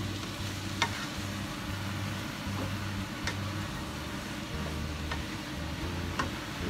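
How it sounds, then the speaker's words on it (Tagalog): Yakisoba fries in a pan in a home kitchen in Japan, an even, continuous sizzle with scattered light utensil clicks, close and moderately quiet. "malapit na pong maluto yung ating yakisoba"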